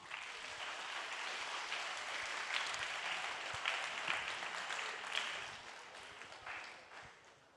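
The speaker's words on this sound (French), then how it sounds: "lancer un tonnerre d'applaudissements pour la suite des" Sustained audience applause for conference panelists at a sustainability event, a dense wash of many hands clapping steadily for several seconds, fairly distant and easing off slightly toward the end.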